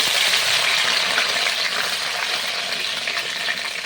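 Chopped coriander leaves drop into hot oil in a non-stick kadai on a medium gas flame, producing a loud, bright, continuous sizzle that eases off slightly.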